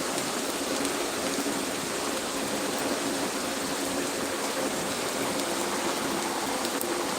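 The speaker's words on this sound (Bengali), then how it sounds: "অনেক বৃষ্টি হচ্ছে" Heavy rain falling at a garden house, a dense, loud, unbroken hiss of downpour with scattered sharper drop taps, steady for several seconds with no voices.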